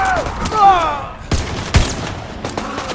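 Bursts of gunfire crackle in a zombie shooter game, a few sharp shots and a heavier blast over roughly three seconds, with brief talking mixed in.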